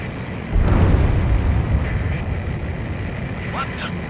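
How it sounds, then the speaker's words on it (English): A huge underwater explosion erupts in the flight combat game Ace Combat 7, a deep rumbling boom that swells and lingers under a steady engine drone, with a brief radio chirp near the end. "A huge explosion just went off underwater."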